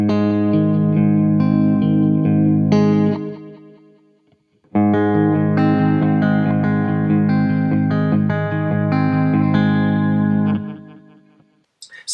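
An electric guitar plays a picked chord pattern through effects with distortion and chorus, ringing out in two sustained phrases that fade away, separated by a brief gap, loud and close without speech.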